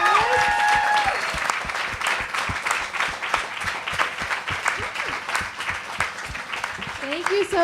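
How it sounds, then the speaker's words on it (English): An audience applauds panelists at a sustainable block party pop-up, loud dense clapping held for several seconds, with a voice briefly heard at the start and end. "Can I get a big round of applause for the wonderful panelists?"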